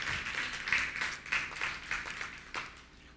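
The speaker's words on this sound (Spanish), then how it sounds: "tú le dieras un aplauso al Señor grande" A church congregation clapping together, a moderate steady patter of many hands with a few louder bursts, somewhat distant in a reverberant hall.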